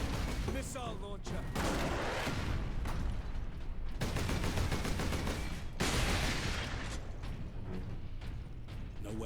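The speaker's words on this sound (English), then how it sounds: "Missile launcher." A video-game missile launcher fires in a dense, loud, continuous barrage of rapid blasts and mechanical clatter, broken by two brief gaps. The bursts sound close and dominate everything else.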